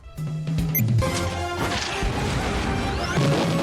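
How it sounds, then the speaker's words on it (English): In an animated film, a self-driving car crashes into a house with a loud, close smash of splintering and crunching debris that rumbles on for several seconds. "The car smashes into the house and the kids escape in it."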